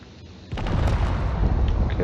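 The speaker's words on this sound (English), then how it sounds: "those missiles definitely hit" Missiles striking a ship in a carrier combat space video game, a heavy explosive boom that starts abruptly and rumbles on as sustained loud blasts, with voices faintly mixed in.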